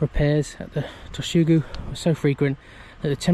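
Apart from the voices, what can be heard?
None of the usual background noises is heard.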